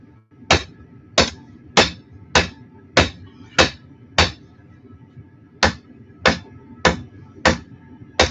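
A hammer strikes hot steel while forging a knife blade and drawing out the bevels, about a dozen sharp ringing blows in a steady rhythm close by, with a brief pause near the middle.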